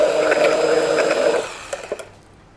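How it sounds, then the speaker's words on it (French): Chestnut velouté being whizzed in a blender, a steady buzzing whir that runs for about a second and a half, then cuts off, leaving a few soft knocks and clatters. "Le velouté de châtaigne, qu'on va quand même mixer un petit peu"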